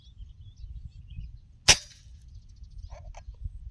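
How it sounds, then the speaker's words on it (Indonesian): A single sharp air rifle shot fired with a 12-gram slug through an NST eight-groove barrel, one crisp crack midway over a low rumbling background, followed by faint ticks. "Lanjut lagi ke tembakan kedua."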